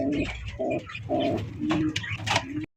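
High-flying Giribaj pigeons cooing close by in a short series of soft, throaty coos, with no other sound around them.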